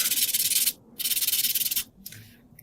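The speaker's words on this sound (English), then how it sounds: "Okay, I'm gonna buff." A nail buffer rubbed briskly over fingernails before gel application, two bursts of rapid, even back-and-forth scratchy strokes followed by a softer, shorter pass, close and alone without talk.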